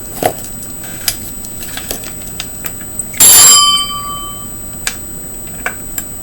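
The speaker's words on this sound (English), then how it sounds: "I had to ring the bell" A bell rung once, a bright ringing strike that lingers and fades, standing out clearly against faint ticking and light tapping in a quiet room.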